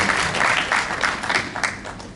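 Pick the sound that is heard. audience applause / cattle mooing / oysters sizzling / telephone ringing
audience applause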